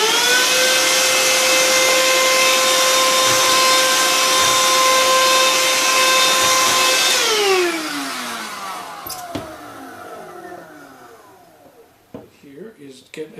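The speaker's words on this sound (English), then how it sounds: "Now grab my vacuum cleaner" A vacuum cleaner whines loudly and steadily, then powers down with a falling pitch, followed by a few clunks and handling noises.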